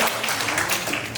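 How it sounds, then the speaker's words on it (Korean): Brief burst of audience applause at a science-themed anniversary show, dense and fairly loud, with no talk over it. "그러면 발표해주신 윤정님께 큰 박수 부탁드리겠습니다"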